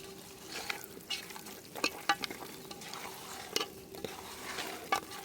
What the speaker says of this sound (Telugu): కసూరి మేతి వేసి కలుపుతాను.